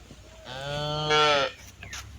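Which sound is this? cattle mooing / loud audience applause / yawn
cattle mooing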